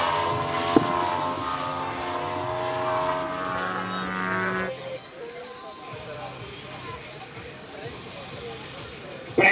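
Extra 330 SC aerobatic model plane landing at a model air show, its propeller engine whining loudly then dropping off abruptly as it comes down, with a commentator talking over the sound.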